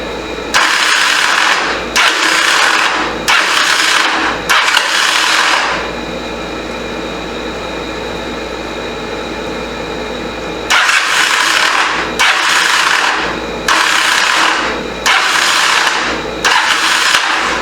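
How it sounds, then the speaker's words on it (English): The starter motor of a 1985 Honda CMX 450 Rebel motorcycle grinds in repeated harsh bursts of about a second each, then the engine idles for several seconds before the cranking bursts resume, loud and close. "Sounds like the starter, like the flywheel."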